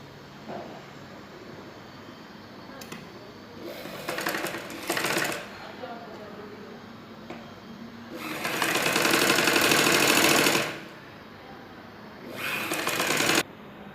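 A sewing machine stitches the front pieces of a blouse in several bursts. The bursts vary in length, and the longest runs about two seconds. A steady background hum fills the pauses between them.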